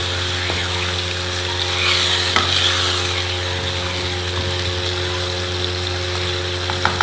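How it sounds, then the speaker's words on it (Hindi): A parichay mixture stirred and fried in a pan, giving a continuous sizzle with scraping stirs over a steady background hum. "अब हमने इसको 5 मिनट अच्छी तरह से इसको भून लिया है।"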